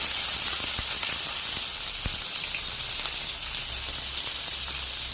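Green chilies, onions and curry leaves frying in oil in a pan for a spring onion and pesarappu curry, giving a steady, close broadband sizzle with a few faint clicks and no talking.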